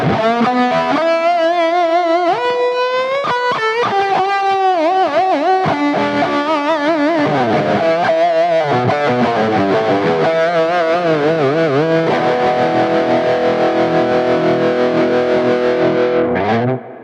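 Grunge-style distorted electric guitar with a wavering, pulsing tremolo, playing moody chords and bends, loud and continuous throughout.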